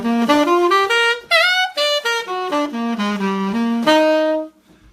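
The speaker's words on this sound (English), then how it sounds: "So I'm improvising for 3, then playing that descending augmented triad." A solo instrument improvises over a jazz blues in a quick run of single notes, ending on a descending augmented triad lick that trails off into a short silence, played clearly and up close.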